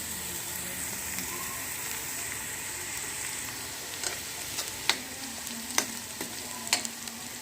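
Steady, close sizzling of nearly browned onions frying in a hot pan as garlic-ginger paste is added, with a few sharp pops and spatters toward the end; no talking.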